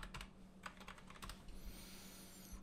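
Keys clatter on a computer keyboard as a password goes in: a quick run of close, light clicks, then a brief pause and a few more taps, faint and with no voices over them.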